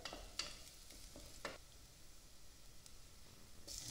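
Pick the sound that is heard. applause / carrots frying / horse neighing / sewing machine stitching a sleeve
carrots frying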